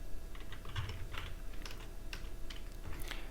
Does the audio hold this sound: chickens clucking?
no